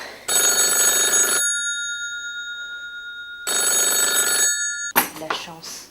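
A telephone rings in two long electronic bursts separated by a pause, loud and close, followed by a short clatter as the handset is picked up.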